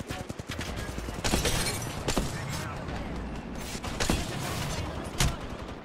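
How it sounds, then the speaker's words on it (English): Bursts of automatic gunfire ring out in an Apex Legends firefight, several sharp loud volleys spread across a dense, busy stretch of game sound with clicks and mechanical rattles in between. "Getting shot at."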